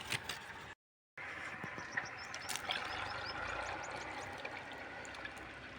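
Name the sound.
water being poured into pots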